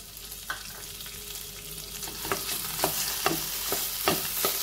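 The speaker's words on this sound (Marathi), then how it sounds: "खवा भाजून घेणार आहे" Khoa roasts in ghee in a kadhai while a spoon stirs it, producing a soft, even sizzle broken by repeated sharp scraping clicks that grow slightly louder toward the end.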